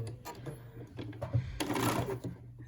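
A sewing machine runs a short burst of stitches reinforcing a seam on a surgeon's cap, with quiet mechanical whirring and clicks close by.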